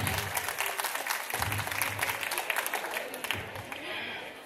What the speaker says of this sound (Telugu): I'm expecting claps from everyone.